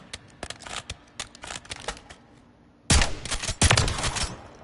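SPAS shotgun firing in Call of Duty: Modern Warfare 3 on PS5, a string of sharp, loud blasts, sparse at first and then a dense burst of rapid shots near the end, with no talk over them.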